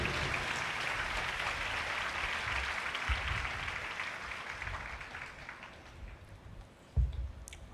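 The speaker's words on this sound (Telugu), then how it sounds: "చప్పట్లు కొడదాం అందరు గట్టిగా." A church audience at a Telugu Christian sermon claps loudly, producing dense, sustained applause that stays steady and fades slightly, with a sharp thump near the end.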